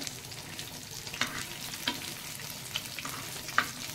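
Mori fish (mushi) frying in hot oil, a steady close sizzle with occasional sharper pops and crackles spaced every second or so, no voices.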